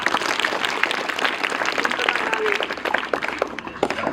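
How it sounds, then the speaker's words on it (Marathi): A school audience at Shri Malganga Vidyalaya, Nighoj, gives a schoolgirl steady, dense applause from many hands, loud and sustained for several seconds with faint voices underneath. "कार्तिकीसाठी सर्वांनी टाळ्या वाजवा"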